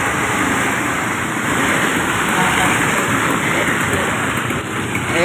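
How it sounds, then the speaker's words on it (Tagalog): Steady rain falls on Capulong Highway (C-2 Road) in Tondo at night, a dense continuous hiss of drops on the street and nearby surfaces, with a constant high whine of insects or electrics above it and no speech. "Medyo humina-hina yung ulan."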